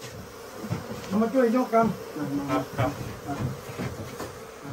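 Asian cavity-nesting honey bees buzz steadily at a hive, close by. Someone speaks briefly over the humming swarm.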